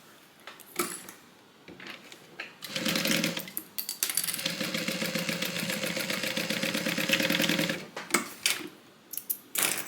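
Sewing machine stitching a 3/8 inch seam on a fabric divider bag, starting in short bursts, then running steadily in a fast rhythmic chatter for several seconds before stopping and restarting briefly, close and clear.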